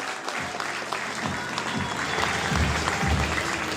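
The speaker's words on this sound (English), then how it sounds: "give your audience a round of applause" An audience at the 2023 British Juniors powerlifting championship claps in sustained applause. It starts with a few scattered claps, then swells into dense, steady clapping from the crowd and keeps building toward the end.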